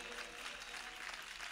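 A church congregation clapping at a Christian blessing festival, a dense, steady burst of many hands applauding together for a moment, fairly faint and without talk.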